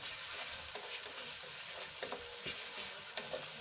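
Chopped onions sautéing in thin oil in a pan for pav bhaji, a steady close sizzle and crackle throughout with a few soft stirring scrapes, no talking.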